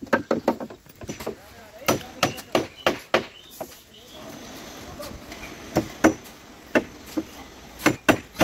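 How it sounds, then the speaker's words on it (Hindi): Hammer blows drive 4-inch nails into plywood shuttering, sharp woody knocks in quick irregular bursts with short pauses, close and loud, with faint background noise between strikes. "इसे ठोकना है सही करके, 4 इंच की कील, दो दो कील मारें हर पत्ते में"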